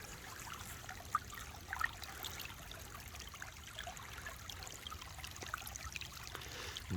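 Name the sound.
water flowing through a gold prospecting sluice box in a stream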